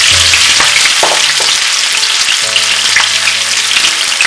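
A large onion frying with fennel seeds and green chili in a pan for goat meat curry, a loud dense sizzle filling the whole stretch with occasional utensil clinks, close up and without talking.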